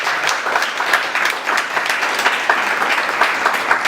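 A crowd at a Christmas party applauds steadily, dense clapping at close range sustained for several seconds, with no talk over it.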